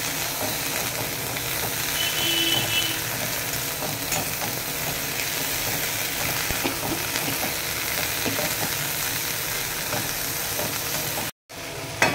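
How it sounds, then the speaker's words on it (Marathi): Umbardode (wild fig) pieces fry in spice masala and oil while being stirred, a continuous loud close sizzle with scraping and stirring strokes throughout, briefly dropping out near the end. "आणि मसाल्यामध्ये चांगले हे उंबरदोडे आपल्याला नुसत्या फ्राय करायचे आहे, एक जीव आपण फ्राय करून घेऊया।"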